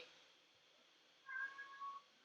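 A house cat meows a few times indoors, close by but quiet, in short tonal calls lasting under a second, with no talking over them.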